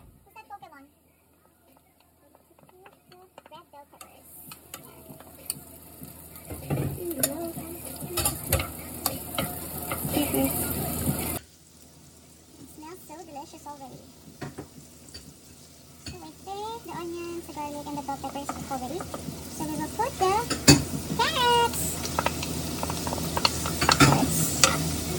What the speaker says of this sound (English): After we saute the garlic and the onions